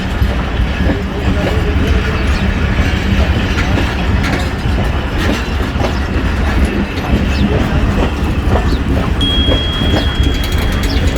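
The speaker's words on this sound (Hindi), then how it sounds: "Good bye Karachi express down 16 cantt जा रही है।" Karachi Express passenger train pulling out of a station platform, a steady loud rumble of rolling wagons with faint clickety-clack over the rails, continuous and close throughout, with a thin high tone near the end.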